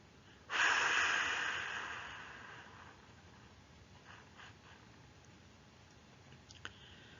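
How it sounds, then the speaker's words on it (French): A single forceful breath blown out through the mouth during a relaxation exercise, loud at onset and fading over about two seconds, then quiet with faint clicks. "Par la bouche, vous soufflez fort pour chasser les tensions accumulées dans votre poitrine."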